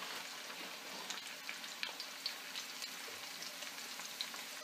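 Onion and garlic frying in a pan for a cuttlefish and squid ink bucatini dish, a steady soft crackling sizzle with faint pops, no talking.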